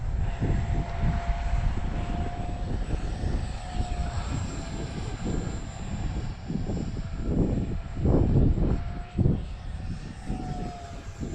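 A small radio-controlled T-33 model jet's engine drones steadily throughout, a sustained buzzing whine that swells and fades slightly as it flies, with wind rumble beneath.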